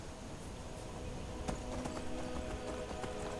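Rhythmic clip-clop of horse hooves trotting at a steady pace in the video game Skyrim, over a continuous background hum, close and moderately loud.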